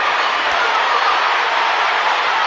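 Crowd at a boxing fight in Detroit cheering as the hometown fighter comes back after a knockdown: a dense, loud, continuous roar with no breaks.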